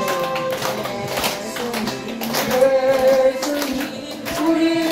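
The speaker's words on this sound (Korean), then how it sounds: "박수하면서." A gathering claps steady beats in time while singing a Korean hymn set to the Arirang melody. The taps are crisp and regular under a close singing voice, with a group joining in.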